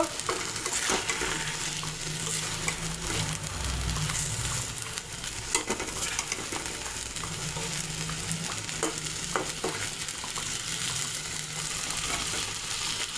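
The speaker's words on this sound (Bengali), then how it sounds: "মাছগুলো এখন উল্টিয়ে দেব।" Fish frying in a pan of tangy spiced sauce, sizzling steadily and loudly up close while pieces are flipped, with occasional soft scraping of a utensil.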